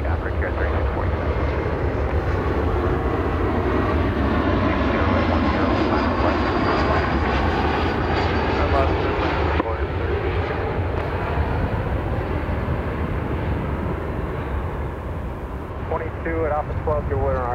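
The last Boeing 747 ever built, a four-engine jumbo jet, roars loud and continuous as it takes off at Chicago O'Hare, with engine noise filling the whole clip.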